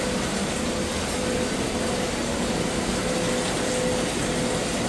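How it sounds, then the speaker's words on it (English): A bucket of water is poured down a clogged drain, making a constant, loud rushing gush that fills the whole stretch with no pauses and no talk. "Fill one more bucket and pour it down there."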